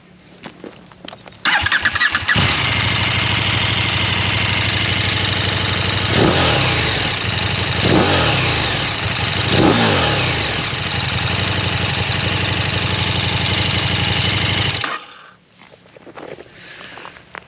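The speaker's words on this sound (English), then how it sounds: "do a quick sound test" A KTM 1290 Super Duke R motorcycle with stock exhaust cranks and catches, then idles loudly with several sharp revs rising and falling before it shuts off near the end.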